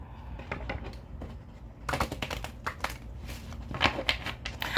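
A tarot card deck is shuffled by hand, giving rapid crisp riffling clicks and flutters in bursts that grow louder after a quiet start, close and with no talking.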